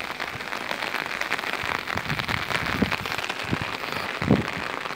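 Heavy rain pours down during a storm, drumming densely on surfaces close by with a constant loud patter and scattered heavier splashes throughout, no voices.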